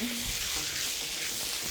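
Steady hissing sizzle of teriyaki sauce hitting a hot pan, continuous and fairly close, with no talking.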